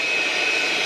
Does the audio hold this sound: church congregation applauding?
no